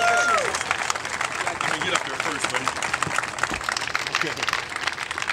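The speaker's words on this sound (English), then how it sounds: "So let's give him a big round of applause." Audience applause at an opening ceremony, a steady, fairly loud wash of clapping with some crowd noise and cheering mixed in throughout.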